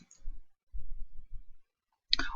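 A short run of soft clicks from a computer mouse, heard in close succession as a PowerPoint tab is selected, with a louder click near the end; no speech.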